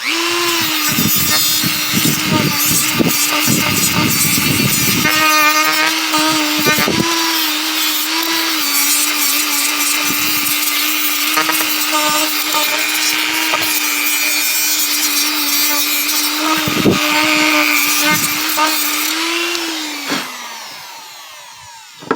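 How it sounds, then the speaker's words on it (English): A power sanding wheel grinds steadily against wood while carving a goblin figure, with a loud motor whine, continuous for about twenty seconds before winding down. "So I got me a sanding wheel now."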